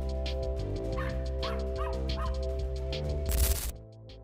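A dog barks and yips several times in quick succession over a steady musical background, followed by a brief louder burst near the end.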